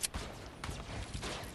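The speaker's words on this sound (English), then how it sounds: "So here, gunshots." Video game gunfire in a battle royale match, a few sharp distant shots and short bursts cracking over a low rumbling background.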